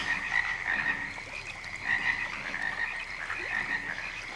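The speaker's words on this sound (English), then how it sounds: "Listen to those frogs." Frogs croak steadily at a pond in a continuous, dense chorus of overlapping calls, fairly close and moderately loud, with no voices over it.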